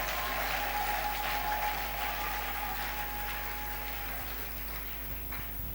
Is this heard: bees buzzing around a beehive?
no